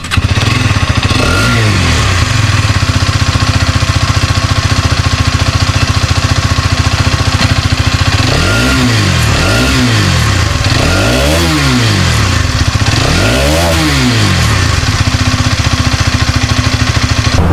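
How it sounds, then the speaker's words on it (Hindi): A Hero Karizma XMR 210cc motorcycle idles loudly up close with a steady exhaust burble, then its throttle is blipped in several quick rising revs that fall back to idle. "तो एक बार इसका हम एग्जॉस्ट साउंड टेस्ट करते हैं"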